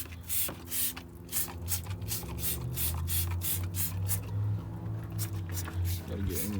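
Aerosol degreaser hisses in a rapid series of short spray bursts over the hot V6 engine of a 2007 Ford Escape XLT, steady and close against a low engine hum.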